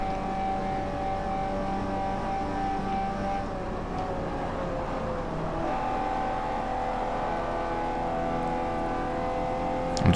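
Engine of an upgraded Mazda Miata prize car in Forza Motorsport 4, a sustained buzzing drone with whining tones that shift pitch as revs change, steady and close for the whole stretch, with a brief knock at the end.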